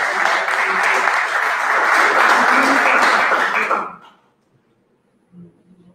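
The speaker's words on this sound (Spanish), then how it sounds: "un aplauso para el Club San Antonio" Applause from the crowd at the 2021 men's national volleyball league presentation for Club San Antonio, loud, dense clapping that holds for about four seconds and then stops abruptly, leaving near silence with a faint sound afterward.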